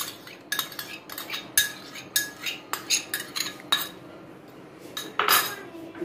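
Boiled black chickpeas being stirred with a metal spoon in a bowl, a close run of quick clinks and scrapes in irregular rhythm, with a louder clatter near the end.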